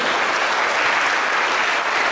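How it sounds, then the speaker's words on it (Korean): Brief, dense clapping from a crowd at a 2013 Scout summer festival, steady and loud throughout. "오문경 단대장님 한 번 더 박수 좀 보내주십시오"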